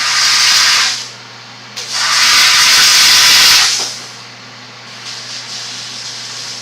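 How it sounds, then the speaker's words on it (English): A steam cleaner blasts a 3D printed dental model in two loud, close hissing bursts, the second longer, over a low steady machine hum. "let's steam this"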